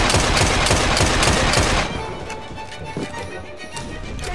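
Horse hooves and rapid gunfire in Assassin's Creed Syndicate: a dense burst of clattering hoof beats and shots for about two seconds, then quieter scattered game sounds.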